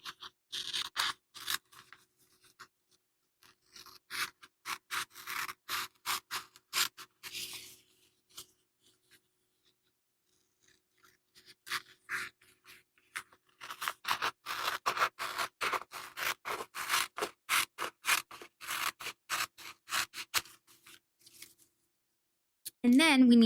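Scissors cutting Yupo paper up close in bursts of quick, crisp snips, with quiet pauses between runs and a final louder sound at the very end.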